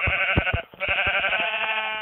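A black sheep in Minecraft gives a couple of short bleats, a bright, nasal, game-style baa sounding close and clear, followed by a few soft thumps and a lingering tonal game sound.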